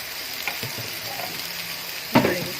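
A tuna steak fries in a hot pan with steady, close sizzling and crackling, and a sharper burst of spitting near the end as the fish shifts in the oil.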